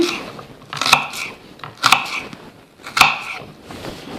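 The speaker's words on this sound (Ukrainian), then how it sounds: "змочуємо ніж і цибулю у воду, щоб нас менше кусало і менше їли цибульні соки. Нарізаємо невеликими кубиками" A knife cuts through an onion on a board, chopping it into small cubes with three sharp, crisp chops spaced about a second apart, each followed by a softer scraping crunch, close by and with no talk.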